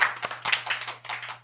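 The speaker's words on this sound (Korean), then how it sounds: "우리 친구들에게 박수 한번 해주세요." Congregation in a Korean church Sunday service clapping for the children, a scattered, uneven patter of hands at moderate distance with a steady low hum underneath.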